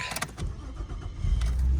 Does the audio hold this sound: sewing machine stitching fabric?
no